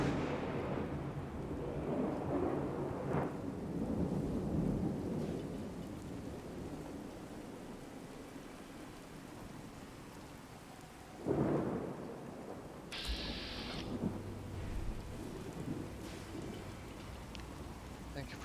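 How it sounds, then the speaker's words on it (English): Rain and thunder from the True Storms mod in the Fallout 4 video game: steady heavy rainfall with deep rolling thunder, a sharp crack partway through, and someone talking softly at times. "This is True Storms, I believe, that's creating this rain effect."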